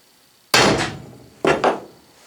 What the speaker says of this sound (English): Copper hammer.